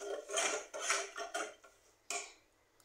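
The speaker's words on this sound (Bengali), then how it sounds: "এগুলো উপকরণ খুব ভালো করে মিশিয়ে নিচ্ছি" A metal spoon clinks and scrapes against a bowl while sugar and agar agar powder are stirred together, a few quiet, separate taps and scrapes with short pauses between them.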